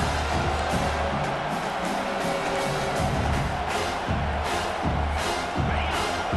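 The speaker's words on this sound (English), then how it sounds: "Decibels rising as the crowd gets behind this defense on third down" Football stadium crowd at a college game roars steadily during a third-down defensive stand, a dense continuous wall of cheering with rhythmic low thumps underneath, with no clear lull.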